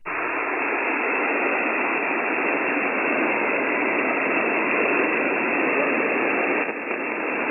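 Steady, loud hiss of static from an amateur radio receiver fills the whole stretch, a flat band-limited noise with a brief dip near the end.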